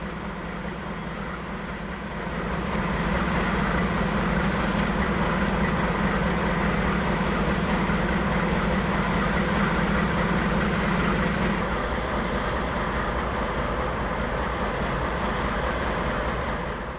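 Freight train 052 rolling through Lehigh in northeast Pennsylvania, a loud, sustained rumble of locomotive engine and rolling cars that builds in and holds steady, with a drop in tone partway as the locomotive passes and the cars continue.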